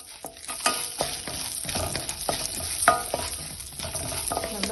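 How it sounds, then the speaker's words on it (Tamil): Chana dal and urad dal roasting in hot oil in a kadai, a steady soft sizzle with scattered scraping stir clicks, close and fairly quiet. "நல்லா பொன்னிறமாக வரைக்கும் வறுத்துக்கலாம்"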